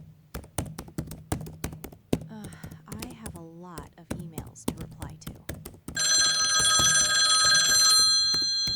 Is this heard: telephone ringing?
yes